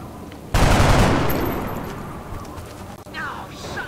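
A single loud gunshot burst from the video game XCOM Long War cracks out abruptly and decays into a lingering rumble, followed by a faint electronic chirp near the end.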